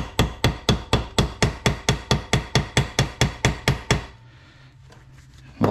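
A hammer flattening a button strikes sharply about fifteen times in a quick, even rhythm, close by, then stops, leaving quiet room noise and one final knock.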